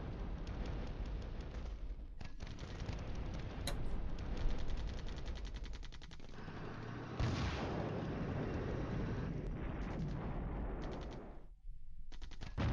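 Artillery fire in the wargame Flashpoint Campaigns Southern Storm, heavy repeated booming gunfire and rumbling impacts in a dense, continuous barrage, fairly faint overall.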